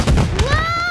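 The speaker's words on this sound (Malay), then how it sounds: "Ada letupan yang kuat tadi." Loud cartoon explosion from a children's animated show, a dense low rumble with crackling bursts filling the whole short moment, followed by a rising whistle-like tone, with no talking over it.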